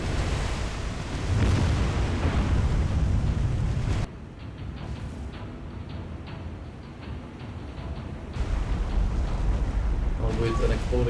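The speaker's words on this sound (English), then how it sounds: "With an exploding magazine." A destroyer's magazine explodes in the naval combat game War on the Sea: a loud, broad roaring blast and rumble that drops off, then swells again amid sea and wind noise.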